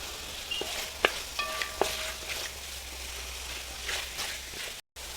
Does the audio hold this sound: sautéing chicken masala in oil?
yes